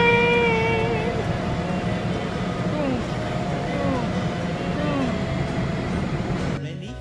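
Low rumbling hum of a train platform with people chattering nearby, a steady background drone, and a few squealing tones sliding overhead.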